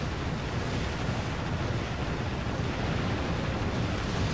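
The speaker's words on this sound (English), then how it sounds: "The waves, man. The waves." Steady ocean waves and surf from the naval combat video game Warship Gunner 2, a continuous loud wash of rushing water with wind-like noise and no pauses.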